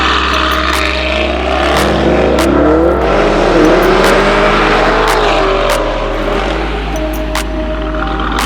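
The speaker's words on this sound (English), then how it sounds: "You guys want to see me beat the shit out of the car." An 800hp RYFT-tuned Lamborghini Urus engine revs and accelerates hard, a loud close roar sweeping upward in pitch through a gear change before easing off, with sharp pops and crackles on top.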